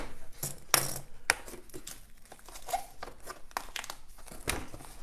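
Vinyl architectural film about 8 mils thick being cut on a kitchen countertop: quiet, close crinkling and sharp snipping or tearing ticks in irregular bursts, with no talking.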